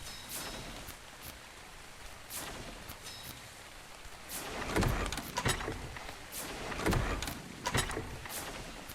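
Rain falls steadily in ARK Survival Evolved, a soft constant hiss broken by several louder crackling bursts and thumps, with no voices.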